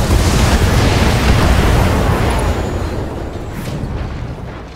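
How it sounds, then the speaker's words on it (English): A mech in the BattleTech game firing a full weapons salvo, a loud dense roaring blast of overlapping explosive bursts that fades over a few seconds, no talk. "Firing a full salvo."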